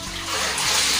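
Clothes slosh and splash in water inside a Von twin tub washing machine, a loud, close, continuous watery churn lasting about a second.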